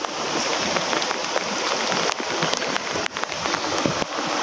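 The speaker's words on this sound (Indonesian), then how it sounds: "soalnya hujan ya, hujan deras." Dense, steady downpour of heavy rain hissing across the whole clip at a rocky fishing spot, with scattered sharper drops and splashes standing out.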